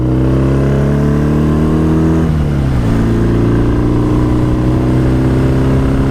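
BSA motorcycle engine revving up as it accelerates along a countryside road, a steady loud drone with harmonics that climb, dip briefly around a gear change, then rise again, close and continuous with no talk.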